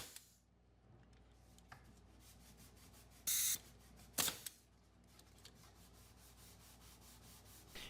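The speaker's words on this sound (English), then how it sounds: "And just a little more sanding." Sanding wood on a workbench build: a soft, steady rubbing hiss running throughout at close range, broken by a couple of brief sharp bursts midway, with no talking.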